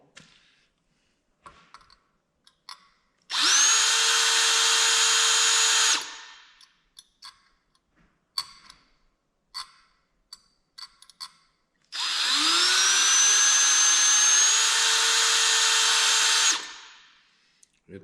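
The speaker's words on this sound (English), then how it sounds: "You ever try and drill through chrome?" A power drill bores through a chrome-plated custom steering column in two long, loud sustained bursts of steady whine, separated by scattered clicks and taps of handling.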